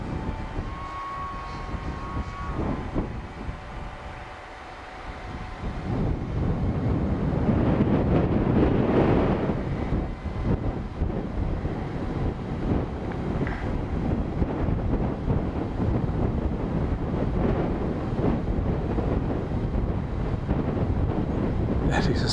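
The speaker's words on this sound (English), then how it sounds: "That is a strong wind." Strong wind of about 31 km/h roars and buffets continuously outdoors, loud and close over the microphone, building after a few seconds, with a voice talking briefly early on.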